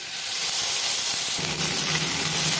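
Ginger paste goes into hot ghee with bay leaf and whole cumin in a wok, and a loud, steady, close hiss and sizzle continues for a couple of seconds without any talking.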